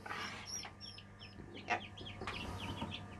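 Day-old chicks in an incubator setup cheep in quick, high, overlapping peeps close by, scattered throughout over a low steady hum.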